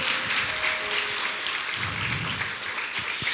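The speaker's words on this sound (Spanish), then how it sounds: "Denle ese aplauso al Señor" A church congregation claps throughout, a steady wash of many hands heard at moderate distance, with faint voices and brief tones mixed underneath.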